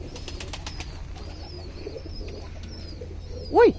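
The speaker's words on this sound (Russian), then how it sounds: "Хозяин, наверное, любит голубей" White-and-brown pigeons in a backyard coop give faint chirps and calls over steady background hum, ending with one louder, close coo.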